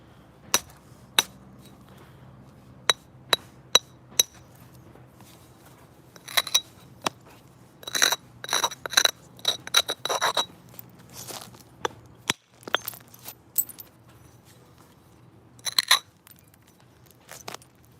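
Sharp stone-on-stone knapping strikes while trimming the edge of a flint biface: isolated single clicks early, then bursts of rapid close taps in clusters, crisp and near, with no talk.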